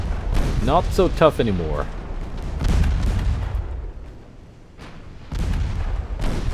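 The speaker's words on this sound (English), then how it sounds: "finally hitting her main belt tank from a battleship gun" Battleship guns firing in the naval video game Ultimate Admiral Dreadnoughts during a 1904-era battle, with several heavy booms spread through the clip, mixed with game voice lines and someone talking.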